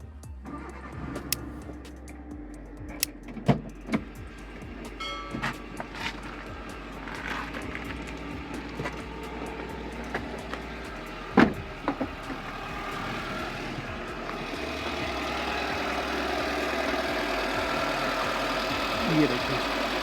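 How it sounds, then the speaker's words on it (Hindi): A car engine cranks and catches, then settles into a steady idle, with clicks and handling noises around it; the car has an overheating problem and a thermo switch controls its radiator fan. "वो मैं आपको गाड़ी स्टार्ट करके दिखलाता हूँ।"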